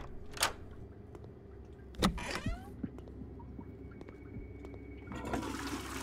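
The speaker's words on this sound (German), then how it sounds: "wusste ich gar nicht, dass man die Klospülung betätigen kann" A toilet flushing inside the horror video game Left Alone, a brief rushing gurgle of water with a creaky handle onset amid quiet game ambience, followed by a softer swell of trickling water near the end.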